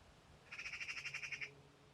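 A nesting bird gives a rapid series of about a dozen high, evenly spaced chattering notes outdoors, fairly faint and at a middle distance over quiet background.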